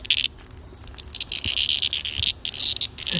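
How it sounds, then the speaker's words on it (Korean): Loud, continuous buzzing of cicadas, a dense shrill drone with pulsing swells outdoors on a summer day, steady throughout with no voices. "매미"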